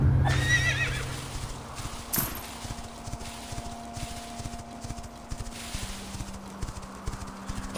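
A horse in the video game Quinfall whinnies loudly, then its hooves clip-clop in a steady rhythm over faint ambient game sounds, with no talk.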